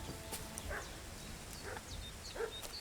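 A dog in the medieval video game Kingdom Come: Deliverance II lets out several faint, short barks and yips spread over a few seconds against low background noise.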